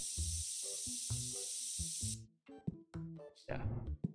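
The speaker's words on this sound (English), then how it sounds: "Oh, it's deodorant. Perfect. Oh, I could spray it?" A deodorant can sprays in a steady hiss for about two seconds in the TCG Card Shop Simulator video game, then stops and a voice speaks.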